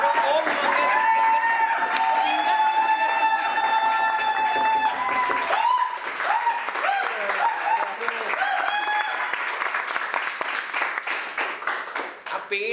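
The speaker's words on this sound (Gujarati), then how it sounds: "આપણે એમને પહેલા તો ખૂબ બધી તાળીઓ સાથે આવકારીએ." An audience at a Gujarati film event claps to welcome guests. Scattered applause builds under music and voices, with dense clapping continuing through the second half.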